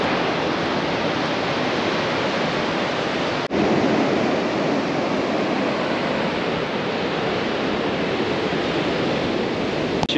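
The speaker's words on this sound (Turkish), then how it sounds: "Şimdi Atlas Okyanusu'nda bir denize gireceğim. Size göstereyim. Çok çetin dalgalar var." Strong Atlantic Ocean waves roll in on the coast at Taghazout, Morocco, a loud, continuous roar of surf with wind buffeting the microphone and one brief dropout partway through; no one speaks.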